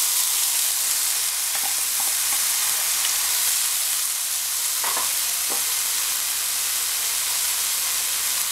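Green onion and bell pepper sizzle in a hot pan, a continuous bright hiss with a few scraping stirs, close and steady with no talking.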